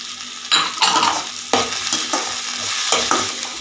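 Carrots and beans are stirred in a frying pan for a semiya and egg tiffin, giving scraping spatula strokes in uneven bursts over a steady close sizzle.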